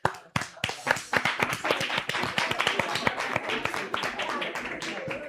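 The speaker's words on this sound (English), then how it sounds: "let's just give them a round of applause for their achievements" An audience claps in applause for achievements at a live-streamed event, dense steady hand clapping that starts with a few sharp claps and quickly fills in, with voices mixed underneath.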